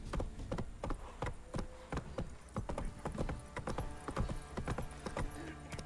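Horse hooves clip-clop at a steady trot across a path in The Witcher 3, a continuous run of close, even hoofbeats for about six seconds, with no talking.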